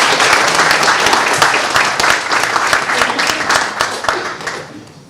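Audience applause rings out after a youth launching introduction at a community gathering, a dense, steady wash of many hands clapping that holds strong for about five seconds before tapering slightly at the end.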